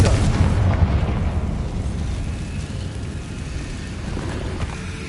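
In Hogwarts Legacy, a Confringo spell explodes with a loud, deep boom at the start that rolls into a long, fading rumble, with no talk.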